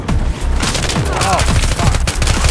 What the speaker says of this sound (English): Enemy machine gun has been spotted in your AO.